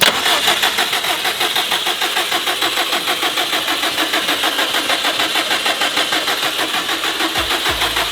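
A 2004 Subaru STI engine is started up and runs in a loud, close, steady pulsing rhythm for several seconds, with a brief low thump near the end and no talking.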